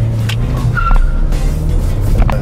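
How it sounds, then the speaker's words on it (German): An Opel Astra accelerating hard, a loud continuous engine roar close by with brief tire squeals on top, no talking. "Du musst Gas geben und du musst Lenkrad loslassen."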